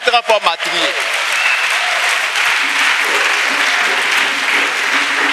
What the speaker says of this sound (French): Acclamation à Dieu le Père.